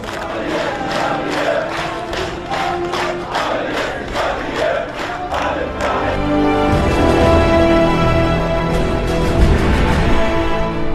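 Mourners at a funeral in Gaza clap rhythmically in sharp, regular bursts while a loud crowd chants slogans, the claps fading into a sustained roar of massed voices.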